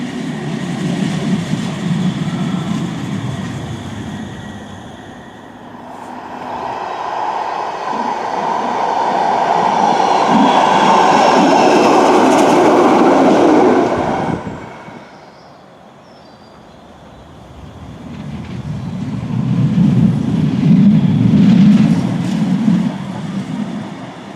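A Manchester Metrolink tram on the Bury Line, heard from onboard as a loud rolling rumble and whine that builds, eases briefly, then surges again with low rattling and clatter from the rails.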